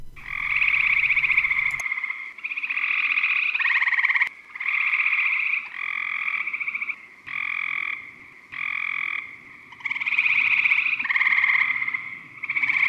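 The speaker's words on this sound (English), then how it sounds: "that was the sound of the Cope's gray tree frog" Repeated harsh, buzzy trilling frog calls in bursts of a second or two, close and loud, with short pauses between them.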